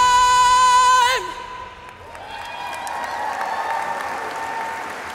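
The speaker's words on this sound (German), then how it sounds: "großen Applaus bitte" Following a dance performance at a charity dance show, a sung note ends abruptly, then audience applause swells back in, moderately loud and continuous, with some cheering in the hall.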